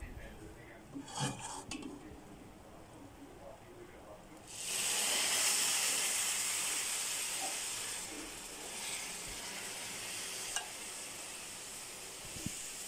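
A few clinks of utensils, then a sudden loud hissing sizzle as hot syrup is poured over hot, freshly baked carrot-slice baklava, fading gradually into a soft crackle.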